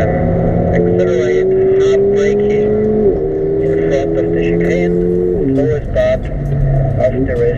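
Mercedes-Benz A45 AMG compact hatchback lapping the Hungaroring circuit in Hungary: loud, close engine note climbing steadily in pitch through the gears, with two clear upshifts, while a person talks over it.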